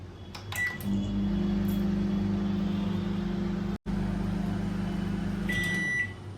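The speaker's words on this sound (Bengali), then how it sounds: "মাইক্রোমোটেই দেবো এক মিনিট" A microwave oven cooking prawns hums steadily for about five seconds with a brief break midway, framed by short electronic beeps at the start and end, close and alone.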